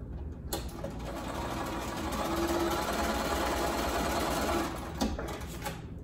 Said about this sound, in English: we're going to go ahead and sew these two pieces together